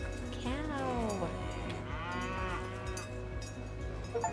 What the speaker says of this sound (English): There you go, cow.